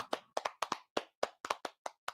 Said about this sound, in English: Let's have an applause one more time for Xingjing.